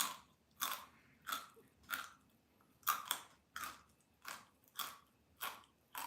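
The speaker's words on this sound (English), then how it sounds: "when you chew chips, you chew it really loud" Loud crunchy chewing of very hot corn chips, a steady series of about ten close, sharp crunches at a regular chomping rhythm with no talking.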